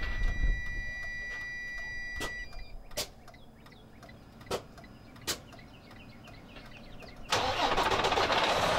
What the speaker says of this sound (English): While sitting in the cab, press on the foot brake and start the engine.